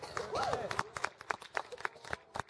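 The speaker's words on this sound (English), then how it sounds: "It's okay to clap, y'all." Scattered hand claps from a church congregation, sharp separate claps in an uneven rhythm, with a voice and crowd murmur running under them.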